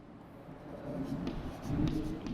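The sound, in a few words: writing during a maths lesson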